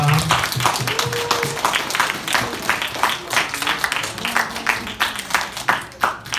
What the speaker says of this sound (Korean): 나오실 때 뜨거운 박수 부탁드립니다